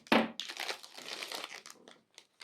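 A plastic wrapper on a Madfaa Ramadan biscuit is torn and crinkled open up close, with a sharp rip followed by a run of loud, busy crackling that fades into a few last rustles.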